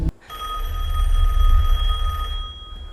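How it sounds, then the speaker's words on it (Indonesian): A telephone rings in a film scene set in a Madrid apartment, a single bright, sustained trilling bell that sounds close and loud over a low rumbling background. "Dia menyuruhnya untuk mengangkat telepon yang akan segera berbunyi."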